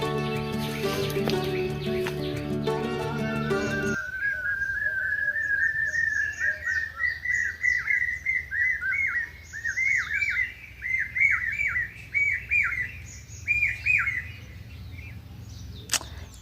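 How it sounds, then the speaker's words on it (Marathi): Bright, repeated bird whistles and chirps ring out in quick runs over steady outdoor ambience, following a few seconds of music-like tones at the start. "ह्या पक्ष्यांचा आवाज फार वेगळाच वाटतोय"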